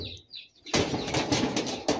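A pigeon flutters its wings in a rapid, close burst of soft flapping that lasts over a second after a quiet start, with faint bird calls before it.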